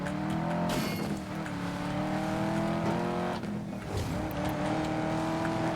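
A Dodge Challenger races in Need for Speed: Most Wanted (2012), its engine holding a steady loud drone with shifting pitch and a couple of brief tire squeals breaking through, no talk over it.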